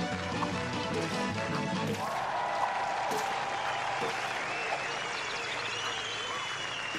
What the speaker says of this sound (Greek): ακούγοντας και τα χειροκροτήματα και τους πανηγυρισμούς